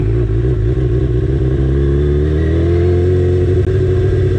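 A Yamaha motorcycle engine with a slipping clutch revs loudly and close up, a continuous rough mechanical drone whose pitch climbs and wavers.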